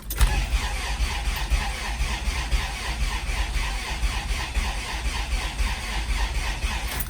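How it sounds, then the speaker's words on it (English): A car engine cranks continuously on its starter without catching, a steady rhythmic whirring churn held at even loudness from start to finish, with no talk over it. "I'm gonna crank it a little more because I don't think it's of any harm."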